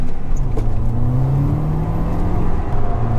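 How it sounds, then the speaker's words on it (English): A 240hp Mk1 VW Golf GTi accelerates uphill, its engine note climbing in pitch through a rev, loud and close, with a whirring drone underneath. "this car's got some major torque steer and wheel spin issues"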